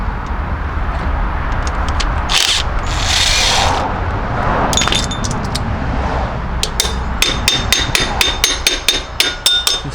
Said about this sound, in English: Special hammer here.